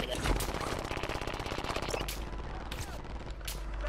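Rapid, dense gunfire crackles steadily in a shooter game, with a few sharper cracks standing out near the end, moderately loud and close.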